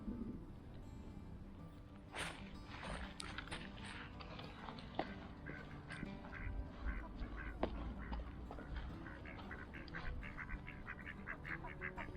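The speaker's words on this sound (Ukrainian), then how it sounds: "качки приплили, тут як тут" Several ducks quack in quick, repeated bursts, fairly close but soft, continuing throughout against a quiet outdoor autumn fishing spot background.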